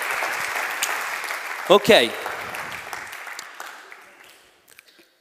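Audience applause at an Italian live talk event, a dense clapping wash that fades out over several seconds, briefly broken by a short spoken word.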